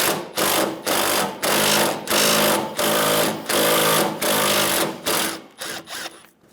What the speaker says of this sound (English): Using a 10mm socket, remove the bolt in the middle of the bumper